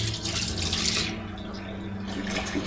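Tap water runs steadily into a sink, a loud close rush that swells and thins slightly for a few seconds, alone without talk.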